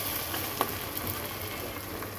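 Spice masala for a rohu fish head dish fries in a pan, a faint, steady hiss and sizzle with a couple of small pops, close by and without speech.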